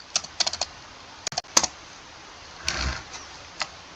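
Keys on a computer keyboard clack in short bursts of quick taps with brief pauses, close and fairly quiet, with no voice.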